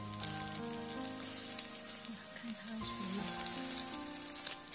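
Fish sizzling on a grill as it is basted with garlic water, a steady close crackle throughout with a sustained tonal hum running underneath.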